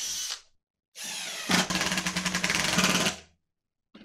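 A pneumatic brad nailer drives brads into wooden table saw fence parts, a short burst of air-tool noise followed by a longer run of rapid mechanical chatter, close and loud, with silent gaps before and after.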